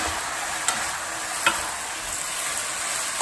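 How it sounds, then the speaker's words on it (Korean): Onion, chilli and spring onion stir-fry over high heat with a loud, steady sizzle close by, broken by a couple of sharp utensil clicks. No voices. "이렇게 넣고 센 불에 거침없이 볶아주세요."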